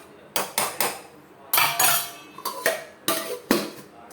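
A few sharp clinks and clatters of a metal plate set onto a pot of eggplant curry, close and brief, with short pauses between the hits.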